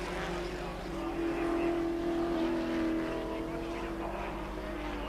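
Touring cars, a Holden and a Volvo, race side by side in the 1986 European Touring Car Championship, a steady loud engine drone swelling and easing over a few seconds with faint commentary underneath.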